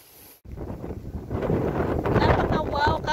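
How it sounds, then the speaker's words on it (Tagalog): Strong wind blowing on a hilltop beside a church roars into the microphone in loud gusts, starting abruptly after a brief cut, while a person talks over it. "Mahangin dito."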